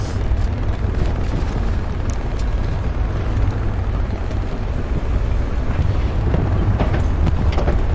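Grenade blast in the tank-warfare shooter Hell Let Loose, a heavy roaring rumble that fills the scene without letup, dense and loud with no talk over it.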